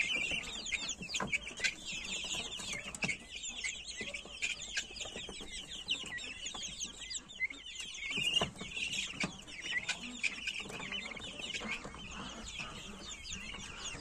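Hens cluck and chatter continuously in an outdoor aviary, many overlapping calls at moderate distance with occasional louder squawks and scratching, no talking.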